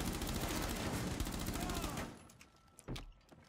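Rapid gunfire in Rainbow Six Siege, a dense burst of loud automatic shots for about two seconds, then a few scattered sharper cracks trailing off.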